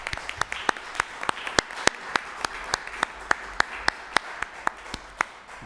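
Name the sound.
audience applause at a city council meeting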